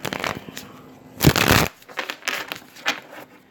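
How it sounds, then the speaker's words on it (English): Tarot cards riffle and flick in several quick bursts, one long dense shuffle in the middle, close and crisp with no talking. "So I'm shuffling up the cards."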